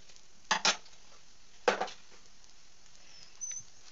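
A spatula clatters against a wok as fried ingredients are tossed into chow mein noodles, two sharp metallic bursts of scraping and knocking with quiet pauses between and a faint tap near the end.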